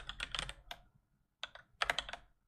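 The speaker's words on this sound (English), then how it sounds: "I'm going to type exactly what Titus has here." Typing on a computer keyboard at a Linux virtual machine setup, a quick quiet burst of key clacks, a pause, then another short flurry of keystrokes, close up.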